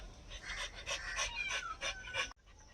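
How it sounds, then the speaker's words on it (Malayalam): A dog pants in quick, rhythmic bursts close to the microphone in a home kitchen where fish curry is being cooked. The breathing ends abruptly near the end. "ഗ്ലാഡി കിതക്കണ്ട"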